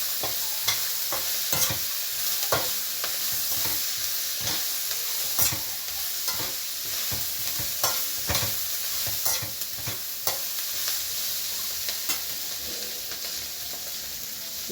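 Ginger and garlic frying in a pan for rice flour upma, a steady bright sizzle broken by repeated scraping stirs of a spoon, close and fairly loud.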